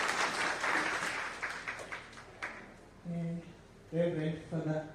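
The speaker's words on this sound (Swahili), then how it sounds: "Tumpigie makofi tafadhali." An audience at a memorial celebration of life claps, a dense burst of applause that fades after a few seconds before a voice speaks over the quieter room.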